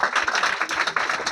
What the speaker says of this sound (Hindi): इनके लिए जोरदार ताली बाबा